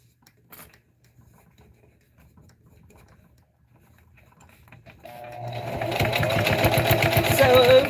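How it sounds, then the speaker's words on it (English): After a quiet stretch with faint handling noises, a sewing machine starts up and stitches a Dollar Tree tote bag, its motor whirring loud and steady through the last few seconds. "Sew over the thick part. Go all the way to the other side. Go backwards."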